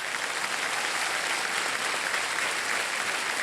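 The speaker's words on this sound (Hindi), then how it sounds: "तालियां बज जाए इनके लिए।" Studio audience on a Hindi quiz game show applauds a contestant, a dense, steady burst of clapping throughout at fairly loud level with no talk.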